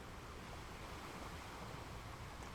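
Steady ocean surf washing in a continuous, even roar of broken waves, with no voices, forming a calm seaside backdrop for relaxation and meditation.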